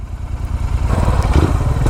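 A motorcycle engine runs steadily during a bike ride, a continuous low rumbling drone that grows slightly louder and rougher partway through, close and alone with no talk.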